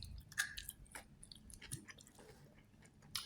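Someone chews boiled eggplant up close, with soft, wet, irregular chewing and a few sharper bites over a quiet background.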